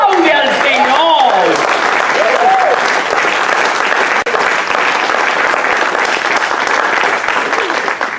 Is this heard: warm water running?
no